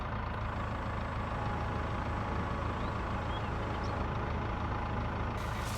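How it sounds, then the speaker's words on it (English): A truck engine in the farming video game Farm Sim 22 runs at a constant drone, steady and dense with a low rumble, and nothing else is heard. "in fact I'm going to move my truck because I do not want to damage this"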